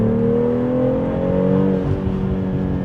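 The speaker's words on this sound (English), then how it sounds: "immediately what you see the difference is how loud this car is" A BMW X3 M40i engine accelerating loudly from inside the car, a steady deep roar with rising harmonic whine throughout.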